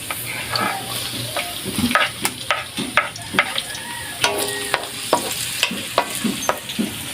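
Beaten eggs and onion are stirred in a hot frying pan, with a soft sizzle under a series of sharp scraping and tapping strokes of the utensil against the pan, spaced at a steady rhythm.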